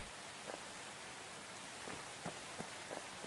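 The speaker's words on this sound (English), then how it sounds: "Oh, it's raining again." Rain falls in the Offroad Outlaws off-road video game during a hunting session, a soft, faint, even hiss with a few scattered louder patters, with no voices.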